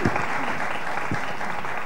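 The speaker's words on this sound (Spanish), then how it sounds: "Un aplauso para las palabras de Juan Francisco." An audience applauds steadily at a poetry and words event in Huelva, a dense, close wash of clapping throughout with a couple of heavier thumps.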